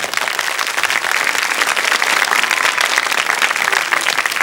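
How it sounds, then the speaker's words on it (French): A studio audience at the French children's TV show L'École des Fans applauds loudly, a thick, continuous roar of clapping from many hands that stays strong and even from start to finish. "vous l'applaudissez très fort"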